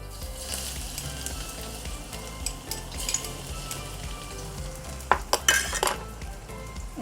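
Chopped garlic being stir-fried in a hot wok or pan for a Chinese New Year prawn platter, with a steady close sizzle and a few sharp metallic spatula scrapes and clinks near the end.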